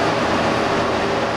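A train rumbles at a railway platform in a station for trains bound for Vienna, a loud steady roar holding constant for the full clip without any break.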